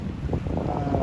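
Brief gusts of sea wind buffeting the microphone near a coastal road bridge at the Davao River mouth, Davao City, a low, rough rumble with faint sloshing beneath.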